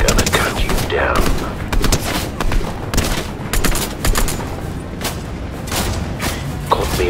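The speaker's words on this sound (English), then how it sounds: "Launching barrage." Rapid barrage of blaster fire from a Boba Fett versus Huntmaster video game battle, a dense, loud stream of overlapping shots and thuds that runs the whole stretch with scattered sharper bursts.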